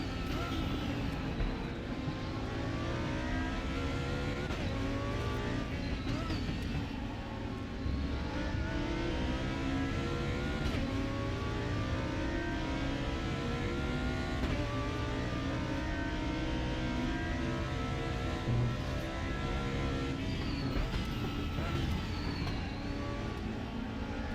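A GT2 race car engine revs and shifts continuously on the Nordschleife in a racing video game, a steady droning engine note rising and falling through the gears at moderate level without a break.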